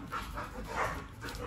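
A 20-day-old Staffordshire terrier puppy pants in quick soft breaths close by, a brief burst of small huffing sounds with faint squeaky whimpers.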